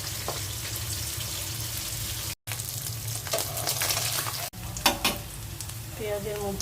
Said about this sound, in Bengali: কড়াই তেল দিয়ে দিয়েছি, পেঁয়াজ দিয়ে দিলাম,